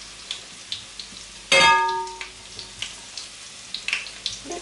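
Onion frying in a pan gives a close, steady sizzle with a sharp burst of crackle partway through, then scattered soft pops and light clinks continuing alone.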